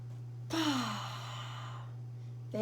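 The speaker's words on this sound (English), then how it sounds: "We take a super deep breath." One deep audible breath taken and released, a loud close rush of air that fades over about a second and a half above a steady low hum.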